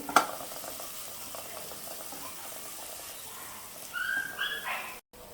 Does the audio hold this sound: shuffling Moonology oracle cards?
no